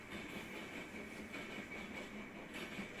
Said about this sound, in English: the interchange train for BNSF that's going to end up heading into downstate Illinois